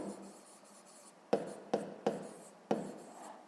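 A pen on paper writes faintly and closely, with a soft scratchy rustle broken by four sharper taps or strokes spaced about half a second apart.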